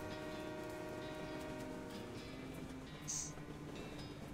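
Moving train in the video game West of Loathing, a continuous rumbling drone with steady tonal hum, plus a brief higher whistle-like tone partway through.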